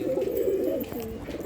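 Domestic pigeons kept for sale at a pigeon market in Agra, giving low, rolling coos in close succession, near and fairly clear, with faint background noise.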